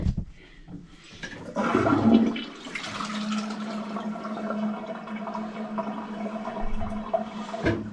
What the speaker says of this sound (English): Toilet that's not flushing.